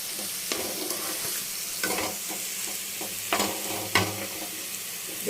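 Onions fry and sizzle in a pan with a steady crackling hiss, broken now and then by louder scrapes and stirs, close up with nobody talking.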